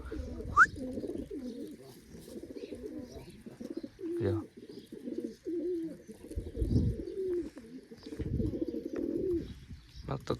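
Pigeons coo in low, throaty bursts through most of the stretch, fairly close, with a brief spoken word near the start.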